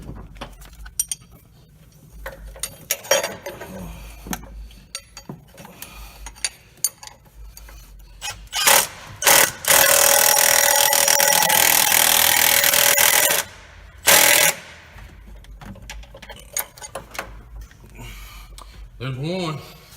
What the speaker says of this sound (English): We're gonna try to tighten these motor mounts up before I forget about them.